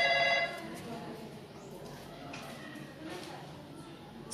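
A fax machine's telephone line rings briefly at the start while the call connects, then gives way to a steady hiss of line and room noise.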